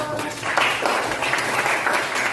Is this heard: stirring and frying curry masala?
no